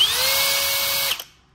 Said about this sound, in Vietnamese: Chức năng khoan búa, khoan tường.